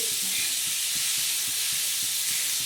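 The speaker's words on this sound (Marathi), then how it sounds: "आता हे असं हलवून घेणार आहोत आपण हे असा कांदा असा चांगला नरम झाला पाहिजे" Onions fry in a pan under a loud, continuous hiss of sizzling oil, while a spoon stirs them with soft, regular scraping strokes about three times a second.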